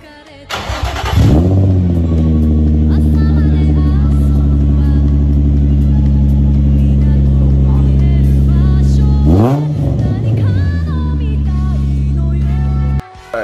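Nissan 350Z running test pipes, revving loud and close: a sharp bark as it fires up, a long sustained high-rpm drone, a quick blip and drop near the middle, then more revving with pops and crackles on the overrun.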